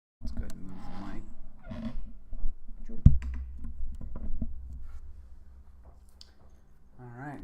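Keystrokes on a Mode Envoy mechanical keyboard with Obscura linear switches, hard lattice blocks and ABS keycaps: a steady run of close, muted clacks, with a voice talking at the start and end.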